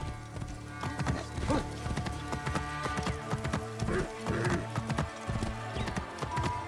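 Horse hooves clopping steadily with occasional neighing in the Assassin's Creed Origins video game, set against a constant tonal music bed with no speech, sustained across nearly seven seconds.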